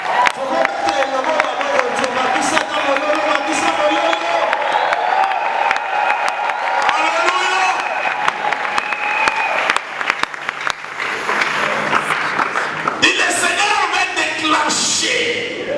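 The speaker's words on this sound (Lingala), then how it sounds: "Est-ce que nous pouvons acclamer ça?" A church congregation cheering and applauding at a worship service, a loud sustained wave of clapping, shouts and whoops filling the room, with voices mixed in throughout.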